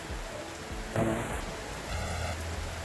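Rain falling steadily outdoors, a dense hissing patter on surfaces with a brief louder splash midway, moderately quiet and continuous.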